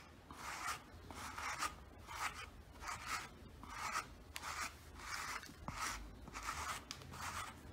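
A brush strokes back through thinning hair dressed with keratin hair fibers, making about ten soft, close, evenly spaced rasping swipes in a quiet room.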